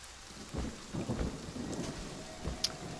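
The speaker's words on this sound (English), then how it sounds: "God, it's raining outside." Steady rain and rolling thunder outdoors in the horror video game Friday the 13th, a continuous wash of rainfall with several low thunder rumbles and a sharp crack near the end, no voices.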